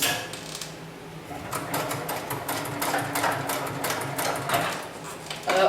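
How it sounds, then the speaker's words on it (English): An industrial sewing machine stitches a lifting sling, a close, steady mechanical rattle of rapid needle strokes that builds slightly in intensity, with a sharper clack at the very end. "And then I'm just going to finish off the stitch."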